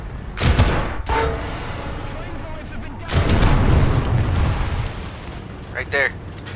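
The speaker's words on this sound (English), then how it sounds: "Why is the airfield shooting at somebody?" Anti-air guns at an airfield in a video game fire two heavy, roaring bursts, a short one and then a longer sustained barrage, loud and dense, with quieter game ambience between them.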